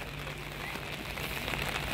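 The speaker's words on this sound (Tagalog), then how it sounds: "Oh, lakas ng ulan talaga." Heavy rain pours down outside beside a parking lot, a dense, even hiss of drops striking surfaces, fairly faint and steady throughout.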